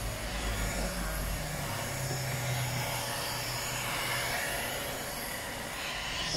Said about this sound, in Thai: ถ้ากดไม่ลงก็ใช้ความร้อนเป่านะคะไม่มีไดร้อนก็ใช้ไดเป่าผมได้ค่ะ